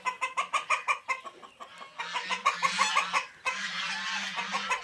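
Fayoumi chickens in a poultry farm shed, cluck after cluck in a quick rhythm with squawky calls overlapping close by, over a steady low mechanical hum from the shed.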